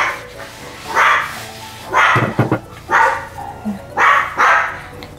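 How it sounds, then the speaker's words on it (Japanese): A dog barks repeatedly and sharply, several close barks in irregular bursts with brief gaps between them. "誰にワンワン言うてんの。"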